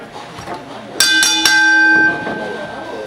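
A ring bell at a CWA Extreme wrestling event is struck three times in quick succession to start the match, loud and ringing, with the last strike left to fade while the commentators talk.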